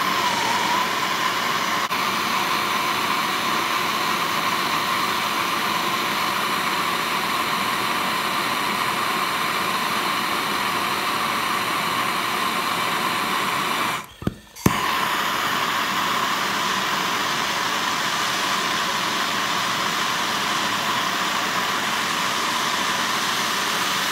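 A tack weld on a Husqvarna 357/359 chainsaw exhaust muffler gives a steady, loud broadband hiss and buzz that runs unbroken for the whole stretch apart from a brief dropout in the middle, with no talking.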